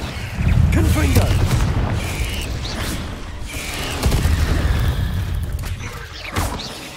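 Confringo blasting spell cast in Hogwarts Legacy: a run of loud impacts, crashes and whooshing blasts, dense and continuous with brief gaps, with game combat noise layered throughout.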